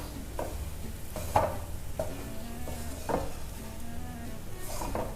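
Grated coconut being gently stirred in a pan over very low heat, with soft scraping strokes recurring every second or so and a faint background hiss, quiet and close.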